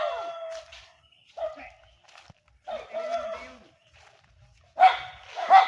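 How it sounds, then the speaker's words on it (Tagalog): A large dog barks in a rural Mindanao yard, a few loud, separate barks in bursts with quiet gaps between them, heard close by and without talk. "Ang lalaki ng aso."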